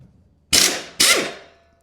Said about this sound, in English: we got ourselves a number 10 socket here. We're going to hit those.